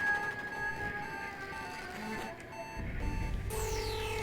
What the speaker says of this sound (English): We might dip into low health beeping range.